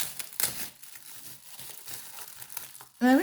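Bubble wrap packaging crinkles and rustles close by in soft, irregular handling, ending with a brief louder burst of another sound.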